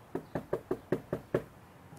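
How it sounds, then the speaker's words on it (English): Knocking on a front door: seven sharp, evenly spaced raps, fairly close and distinct, with no voices. "my knock on the door was ignored"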